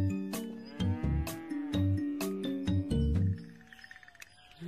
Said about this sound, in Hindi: भैंस को कभी देखा नहीं क्या?